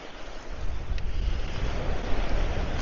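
Sea waves wash in over a shallow beach section on the Isle of Man as the tide rises, a dense steady surf hiss with heavy wind buffeting the microphone, no voices.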